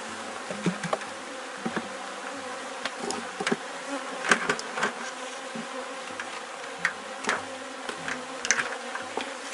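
A swarm of honeybees drones loudly and continuously around a hive being closed up during a colony split, with close bees buzzing past and knocks from the hive work.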